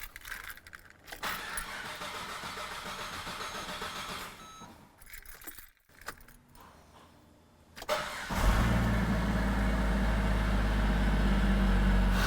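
Keys jangle, then a Ford engine swapped into a Ferrari cranks and catches around eight seconds in, settling into a loud, steady idle.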